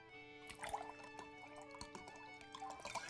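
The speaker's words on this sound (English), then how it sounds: "Sure, let's pour the drink." A drink poured into a cup, with bright dripping and trickling liquid sounds over a steady background of tonal music-like hum, the pour continuing unevenly across a few seconds.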